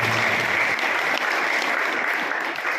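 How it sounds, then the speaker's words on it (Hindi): Audience at a death-anniversary memorial tribute gives steady, dense applause, loud and sustained throughout, with a crowd murmur faintly underneath. "मैं चाहूँगा सभी लोग एक बार खानिया परिवार में तालियां बजाकर उनका सम्मान करें।"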